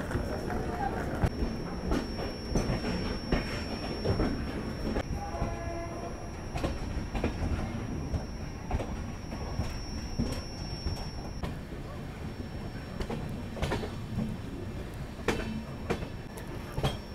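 The 12556 Gorakhdham Express, New Delhi to Gorakhpur, heard from on board while running: a loud, continuous rumble of wheels and carriages with rhythmic rail clatter throughout.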